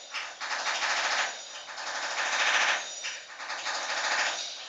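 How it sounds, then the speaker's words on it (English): A jackhammer pounds away at a neighboring property, a continuous rapid hammering rattle in uneven loud surges, heard from a short distance with no talking. "it's non-stop with Jackhammer and next door."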